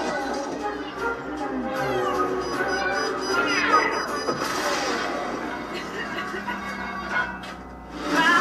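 Kittens meowing in a live game trailer shown during the Xbox E3 2019 press conference, a string of high mewing calls over dense music and crowd noise that run through the whole stretch, fairly loud.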